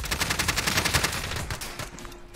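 Rapid automatic gunfire rattles through a video game firefight, a dense, loud, sustained burst of shots for about two seconds before it trails off, with no voices.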